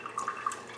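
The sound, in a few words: rinsing a wire with water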